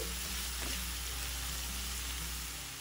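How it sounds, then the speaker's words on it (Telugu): Onions fry in hot oil with curry leaves for an egg curry, a dense, continuous sizzle like steady rain that holds constant and tapers slightly at the end, close and unbroken by voices. "ఈ ఉల్లిపాయని ఇప్పుడు బాగా వేయించుకోవాలి"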